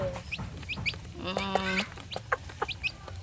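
Hens and chicks cluck and peep at feeding time, with short scattered chirps and a brief louder cackle in the middle, close by and moderately loud, with a voice faintly present.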